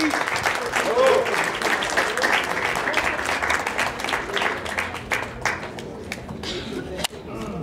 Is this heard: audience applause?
yes